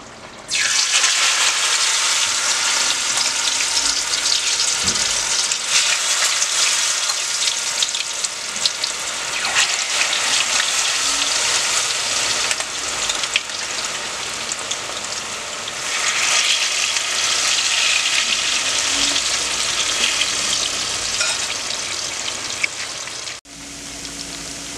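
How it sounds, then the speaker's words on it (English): Plantain frying in a pan while cooking codfish and shrimp gravy, a steady loud sizzle and crackle of hot oil running unbroken for about twenty-four seconds, then cutting off abruptly near the end, no voices. "I'm gonna go now and start frying my plantain"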